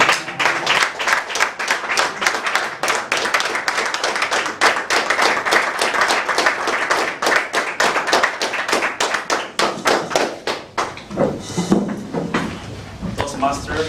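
Warm audience applause at a Toastmasters English club meeting in Bamako as a speaker is welcomed: loud, dense, sustained clapping with no talk, thinning and fading toward the end.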